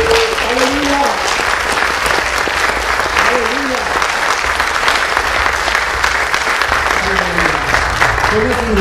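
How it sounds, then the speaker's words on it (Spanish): A church congregation applauds steadily for several seconds, a dense wash of clapping with a voice speaking briefly over it. "Eso merece un aplauso"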